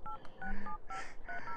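Phone dialing in The Sims 3, a quick series of short two-tone keypad beeps played in a steady rhythm, clear and moderately loud with a brief whooshing game sound partway through.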